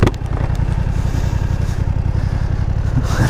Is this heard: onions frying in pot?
no